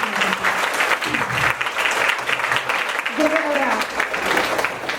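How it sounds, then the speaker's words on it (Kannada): An audience claps loudly and continuously at a staged devotional music event, a dense crowd applause with a voice speaking over it partway through. "ಸರ್ಗೆ ದೊಡ್ಡ ಚಪ್ಪಾಳೆ"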